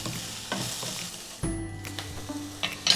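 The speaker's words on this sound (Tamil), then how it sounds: "வெங்காயம் நல்லா வதங்கட்டும்." Onions sautéing in a pan, a steady close sizzle with occasional stirring scrapes and light clinks of the spoon, no voices.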